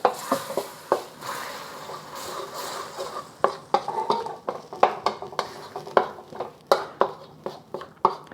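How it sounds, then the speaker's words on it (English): Thai red curry paste stirred with coconut milk in a pan: close, rhythmic scraping and clacking of a utensil against metal, with a soft sizzle underneath. "adding about 1/4 cup of coconut milk to kind of get this curry paste going a little bit more"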